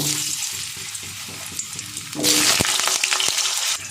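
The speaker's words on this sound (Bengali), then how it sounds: "এবার আমি আলুটা ভেজে নেব" Potatoes fry in hot oil salted to reduce spattering, with a crackling sizzle under stirring clatter that swells sharply to a louder, denser hiss about halfway through.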